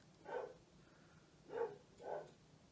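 Dog barking in a room during a makeup session, three short muffled barks from a distance, faint and spaced apart, the second and third close together.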